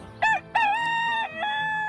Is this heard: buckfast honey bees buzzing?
no